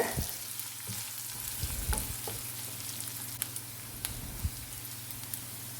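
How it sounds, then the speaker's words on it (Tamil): Chopped onions with a pinch of salt sauté in a pan for a prawn kulambu, giving a soft, steady sizzle broken by occasional scraping stirs of a spoon, with no voices. "வெங்காயத்தை ஒரு 2லேருந்து 3 நிமிஷம் பக்கம் நல்லா வதக்கி விட்டுக்கலாம்."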